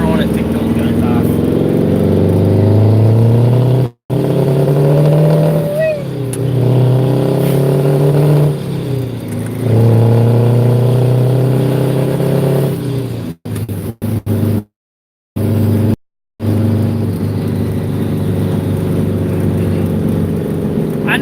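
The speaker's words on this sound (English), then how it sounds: "I know you guys are on here just to listen to the sound of my truck" A truck engine drives and revs up in repeated rising pulls, loud and close from inside the cab, with brief dropouts near the end.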